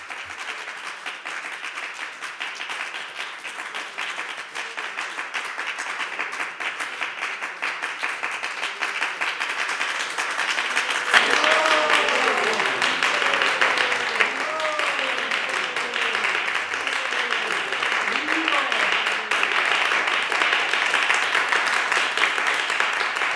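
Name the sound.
audience clapping at end of talk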